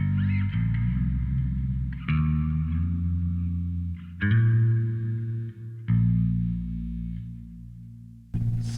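Electric guitar run through a reverb effect, played as a few sustained, sliding notes with vibrato, each struck chord ringing out and decaying in a wash of reverb, close and fairly loud with no talking.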